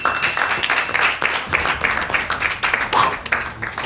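Audience applause for a team's score in a French World Cup football quiz show, a lively burst of clapping with uneven rhythm and some crowd noise mixed in, fairly close and loud.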